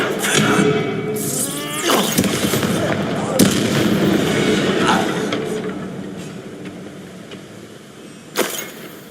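Hogwarts Legacy spell combat: loud bursts and blasts from cast spells, with a sharp crack near the start, a broad rumbling explosion through the middle, and another punchy hit near the end.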